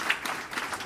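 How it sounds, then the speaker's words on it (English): An audience claps in thanks to a team at the end of a circular-economy forum session, a brief steady patter of moderate applause. "I wish to thank the fantastic team here with a big applause"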